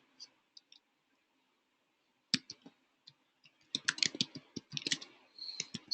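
Computer keyboard typing in short bursts, sparse clicks at first, then a quick cluster of keystrokes, close and quiet with no talk over it.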